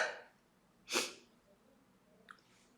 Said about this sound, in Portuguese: Provavelmente vou espirrar de novo.